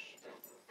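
A dog that has just been woken gives a short, faint whimper with soft panting, heard close by and very brief.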